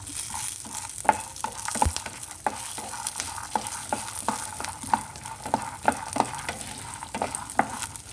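Green chillies and dried red chillies fry in hot oil with a constant close sizzle, punctuated by frequent light spoon taps and stirring clicks at an irregular pace, with no talking.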